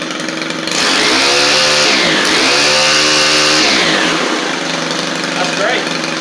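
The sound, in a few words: Stihl weedeater engine starting and running after Hipa carburetor fitted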